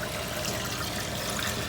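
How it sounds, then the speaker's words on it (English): Sea moss being rinsed and cleaned in alkaline water, giving a steady, close wash of running and trickling water with no gaps and no talking. "clean the sea moss, in addition to how I use it, with alkaline water"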